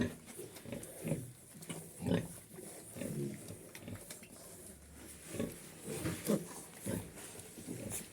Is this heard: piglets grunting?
yes